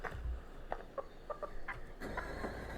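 Faint chicken clucking from the Used Cars Simulator game, a series of short soft clucks spread across a couple of seconds over a low background hum.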